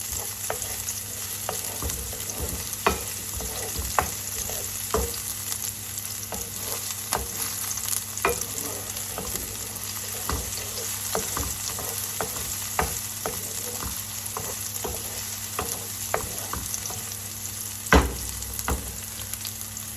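Onions frying in a pan, browning with a constant bright sizzle and scattered sharp pops and spatters over twenty seconds, one louder crack near the end; no voices.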